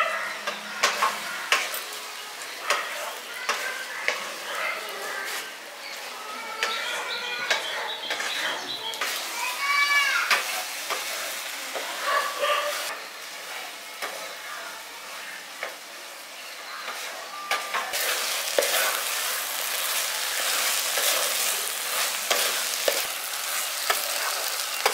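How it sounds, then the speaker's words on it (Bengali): Thick chutney of dates, tomato, mango leather, cashews and raisins is stirred in a pan, producing soft sizzling and repeated scraping taps with faint voices in the background. "এবার এটাকে খুব ভালো করে মিশিয়ে নিচ্ছি"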